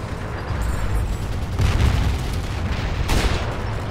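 Tank gunfire and explosions in the World War II video game Forgotten Hope 2 multiplayer: a dense rumbling battle bed with heavy booms around the middle and near the end, loud and close.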